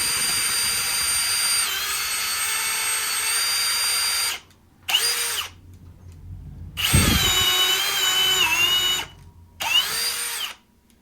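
A Milwaukee impact driver drives a screw into wood, a loud whining buzz in several long bursts separated by brief pauses, close up.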